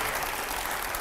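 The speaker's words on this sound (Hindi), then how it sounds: "जोरदार तालियां" Dense, loud clapping from an audience at a Hindi TV news event fills the moment without a break, a steady wash of applause.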